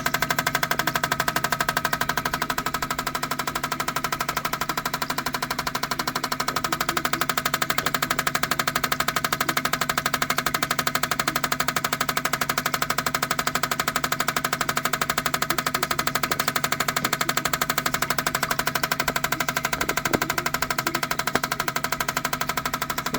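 A used auction van's engine idles during an idle emissions test, a steady, loud, unchanging mechanical drone with a faint rhythmic knock running throughout.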